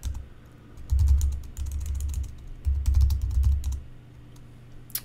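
Keys clatter on a computer keyboard as commands are entered in bursts, quick clusters of close, crisp clicks separated by short pauses.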